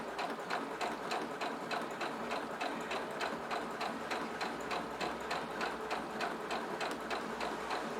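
A sewing machine runs steadily for several seconds while stitching a fabric rectangle for a shoulder bag, a fast, even mechanical rattle at moderate, close volume.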